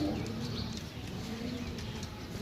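Pigeons cooing at a loft in Gujrat, low soft murmuring coos beneath steady background hiss, faint and continuous.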